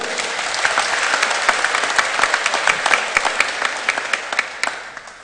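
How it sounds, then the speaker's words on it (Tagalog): A congregation applauds during a live church celebration for the feast of Santiago, Apostol nang Cristo, with many distinct sharp hand claps over a steady rolling wash that gradually thins toward the end. "Mas masayang palakpak po para kang Apong Tiago."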